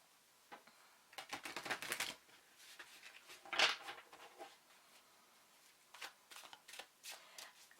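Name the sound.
shuffling tarot cards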